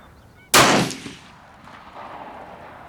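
A single loud gunshot cracks out at an outdoor shooting range, sharp and close, then fades into a brief echoing tail over quiet background.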